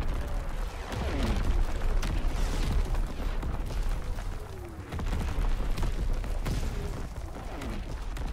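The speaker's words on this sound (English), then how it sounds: "Incoming enemy artillery." Enemy artillery explosions in Call of Duty WWII land as a series of dull, rumbling booms and crackling blasts, some overlapping, over a continuous low battlefield roar at moderate distance.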